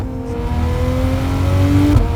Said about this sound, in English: The sound of that engine.